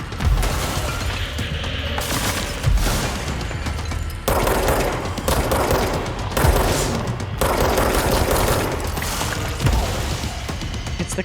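Gunfire in the video game Control, dense bursts of shots and booming impacts filling the whole stretch, loud and near with layered mechanical clatter.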